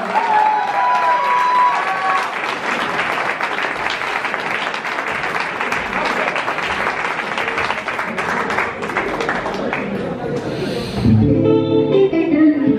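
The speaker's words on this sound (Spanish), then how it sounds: "Así que un aplauso para mí." Concert audience applauding steadily after a singer's joke, dense clapping held at even strength for about ten seconds before fading under music and a voice.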